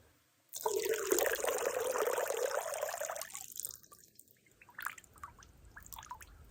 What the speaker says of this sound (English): I'm gonna pour some of this Vienna sausage juice into the hole.